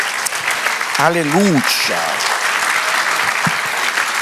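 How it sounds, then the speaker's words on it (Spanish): Church congregation clapping in a loud, continuous patter during a sermon, while someone speaks over it briefly. "Dale aplauso al Señor."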